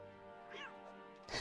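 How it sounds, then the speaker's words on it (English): A short, rising-then-falling meow from a demon cat creature card in the digital card game Magic Arena, heard over a steady musical tone and followed by a brief burst of noise. "I did a fun flip and it meowed."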